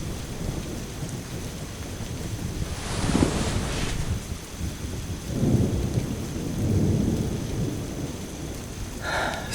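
A steady rain downpour rolls on with low rumbling thunder swelling twice in the middle, all in a Hindi animated horror story setting, with no voices.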